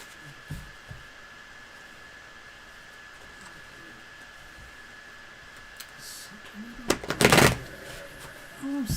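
Tarot cards being shuffled by hand: a short, close riffling burst near the end, after mostly quiet room tone.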